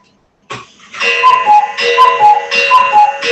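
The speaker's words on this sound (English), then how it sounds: "It's a cuckoo clock." A cuckoo clock chimes in a room, its two-note calls repeating in a steady rhythm, loud and close after a brief silent start, with no voices over it.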